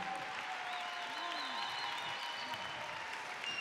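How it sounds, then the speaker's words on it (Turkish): A large crowd at an open-air Harbiye concert applauds in a dense, distant-sounding roar of clapping, with cheers and whistles rising over it throughout. "Bütün alkışlar Hakan'cığıma."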